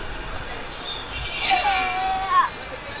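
The Ooty toy train pulling into the Coonoor station platform, with wavering metallic wheel squeals that rise and bend over a quiet low rumble, close by and fading out, with brief talk nearby.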